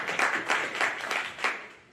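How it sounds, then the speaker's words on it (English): Audience applause greeting the earliest immigrant at a community gathering, a short burst of many hands clapping that swells in pulses and then fades out. "let's give a round of applause to that guy"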